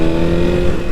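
Kawasaki Ninja ZX6R 600cc sport bike engine revved to about 4,000 rpm, a brief, loud, steady mid-pitched buzzing drone heard up close.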